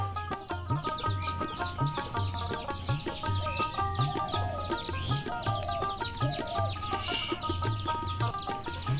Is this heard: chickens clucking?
yes